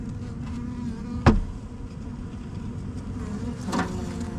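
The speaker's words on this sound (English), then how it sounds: "And I'm going to dump those bees right on you." Honey bees from a package being dumped into a hive, a dense continuous buzz of many insects close by, with a sharp thump as they drop and another softer knock later.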